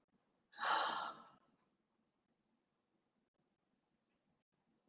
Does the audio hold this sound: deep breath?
yes